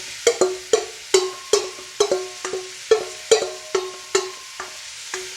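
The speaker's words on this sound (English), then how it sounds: "I'm just going to mix this up so it spreads in the oil properly for about a good 5 minutes" Garlic and onion sizzle in oil as a utensil stirs them, a dozen sharp scraping strokes at an even rhythm over a quiet background, close and clear with no talk.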